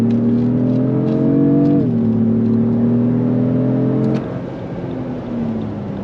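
A Lexus GX550 Overtrail+ luxury SUV with a twin-turbo V6 accelerates, its engine note a loud, steady droning hum that dips with a gear change and then drops lower after a few seconds, heard from inside the vehicle with no talk.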